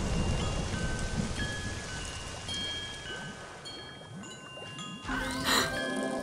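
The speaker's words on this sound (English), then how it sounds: "I'll just hide under this tree until the rain passes." Steady rain falls in the Animal Jam video game, a dense continuous patter with faint tinkling tones and a brighter splash near the end, heard alone without voices.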